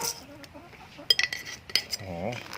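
Utensils stirring and clinking through a spicy Thai mushroom salad made with chili, toasted rice powder and fish sauce, with short scraping and tapping strikes in a bowl at close range, ending in a brief murmur.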